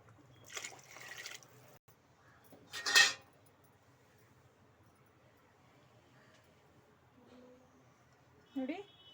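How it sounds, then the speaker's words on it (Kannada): Water is poured into a cooking pot holding rice and ground coconut for vangi bath, making one short splashing gush. Soft kitchen clinks and quiet sounds come before and after it. "ನೋಡಿ ನೀರು ಹಾಕೊಬೇಕು ಅಳತೆಗೆ ತಕ್ಕಂಗೆ"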